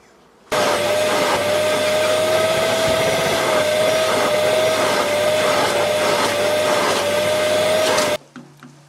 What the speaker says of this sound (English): I'm just going to vacuum it and take out as much water as possible